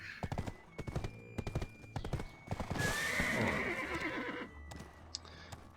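A horse in the Black Desert Online video game gallops with rapid rhythmic hoof clip-clops, then gives a loud whinnying neigh, before the hooves continue more faintly.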